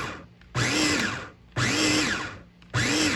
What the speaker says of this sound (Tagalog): simula nung nagkaroon kami nitong food processor, ay malaking tulong po ito sa amin